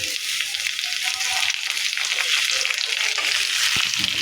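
Chopped tomatoes go into a hot pan of fried chopped onions while cooking a hilsa fish and radish dish, a loud, continuous hiss of sizzling oil close up with light stirring scrapes.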